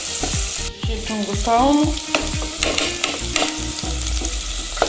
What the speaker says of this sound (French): je mélange le tout pour 5 minutes à feu doux bien sûr